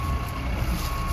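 An old truck reversing, its backup beeper sounding over a steady engine rumble, close and continuous with no talk.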